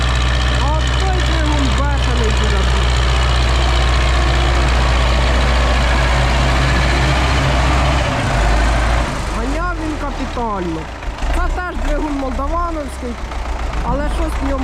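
A YuMZ D-240 tractor diesel engine idles close by with a steady low throb and rattle, then revs a little toward the end, over a loud constant drone.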